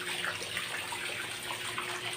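Water from a hose runs steadily during a leak test on a freshly waterproofed surface, a constant broadband rush at moderate level with no talk over it.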